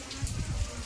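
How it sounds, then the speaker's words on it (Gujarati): Rain that has just begun falling outdoors in mid-afternoon, a soft steady patter and hiss, fairly faint, with no voices. "અત્યારે વાગ્યા છે 3:30 થયા ને વરસાદ શરૂ થયો છે."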